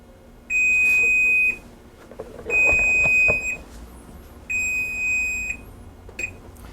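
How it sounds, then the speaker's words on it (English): An oven timer beeps in a kitchen while brioche bakes, sounding three long, steady electronic tones about a second each with short gaps between, fairly loud over faint background clatter and no talk. "That beeping is telling me that my brioche is ready to come out of the oven."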